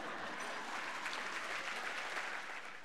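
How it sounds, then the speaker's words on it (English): An audience at a Sydney debate event claps for a debater. The applause is dense and steady, sounds moderately distant, and keeps an even level from start to finish. "Let's give her a clap for Mia."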